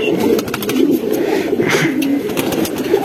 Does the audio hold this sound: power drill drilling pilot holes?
no